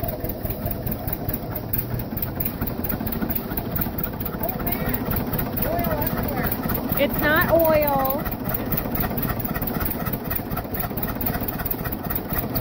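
A John Deere tractor engine with a head gasket fault idles with a continuous low chugging throughout, while people talk over it and a brief squeal rises midway.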